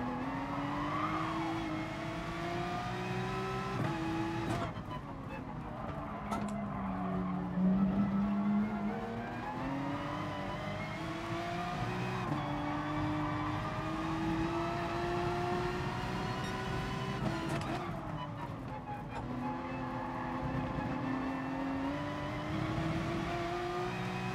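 Porsche race car driven in Gran Turismo Sport, its engine droning steadily and rising and falling in pitch through gear changes and braking, loud and continuous for the whole stretch with no talk.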